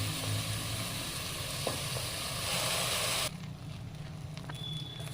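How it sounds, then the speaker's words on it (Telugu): Rice and vegetables, with rinsed rice and moong dal, fry and crackle in a pan for a vegetable dal khichdi, a steady close sizzle that drops noticeably quieter partway through, with a few faint clicks and no talking. "ఇప్పుడు బియ్యం చిరుపట్లు ఆడుతుంది చూడండి"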